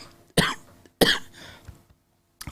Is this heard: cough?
yes